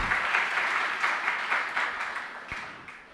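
Audience clapping at a spiritual discourse by a Jain monk: steady, dense applause from a crowd, moderately loud, holding for about three seconds and slowly fading, with no voices over it.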